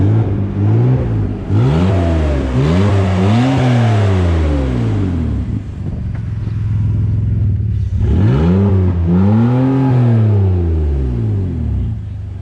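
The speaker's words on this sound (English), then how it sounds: "Give it a rev." A BMW E46 engine revs up and down repeatedly with the exhaust removed, loud and close, with rising and falling pitch sweeps separated by a steady idling rumble.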